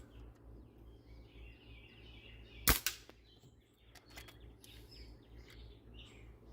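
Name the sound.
airsoft pistol BBs hitting wooden target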